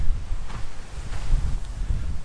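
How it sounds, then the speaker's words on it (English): Strong wind at Uluru, Australia, buffeting the microphone in heavy low rumbling gusts, loud and continuous. "Right here, very windy."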